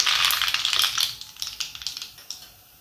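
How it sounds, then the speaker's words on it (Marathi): Mustard seeds crackling and popping in hot oil in a pan, a dense burst of sharp spits that thins into scattered, irregular pops, close and fairly loud. "ऑइल आपलं गरम झालेलं आहे। यामध्ये आपण अर्धा चमचे मोहरी"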